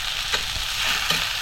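Cluster beans stir-fried in a pan over a wood-fired stove give a steady close sizzle, with two brief scraping stirs.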